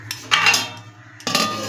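Vegetables with soybean chunks are stirred in a pot, with two bursts of scraping, clattering metal as the utensil and lid knock against the cookware, loud and close without voices.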